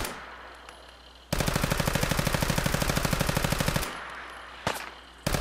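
Continuous automatic gunfire from Fallout 4 pounds away in one loud, rapid, sustained burst of several seconds, followed after a pause by a couple of single sharp shots.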